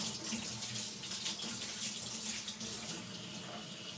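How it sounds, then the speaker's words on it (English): Tap water runs steadily and close over a small bunch of parsley at a kitchen sink, a continuous rushing splash with no speech. "So I'm gonna wash off this little bit of parsley."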